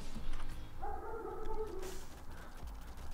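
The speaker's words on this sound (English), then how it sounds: "Dogs are barking in the background." Dogs bark faintly in the distance, a few soft barks sitting low beneath quiet video game sounds with no one talking.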